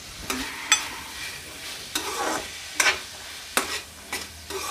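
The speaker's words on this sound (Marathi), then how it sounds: "हे पुन्हा एकदा थोडं परतवून घेऊयात" Green peas and chopped carrot being sautéed in a pan, with a low sizzle broken by about six sharp spatula scrapes and clacks at irregular intervals and no talk.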